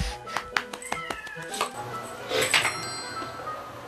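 Stray cats visiting a home, with short meows and chirps over light clinks and household clatter at close range, amid busy indoor background noise.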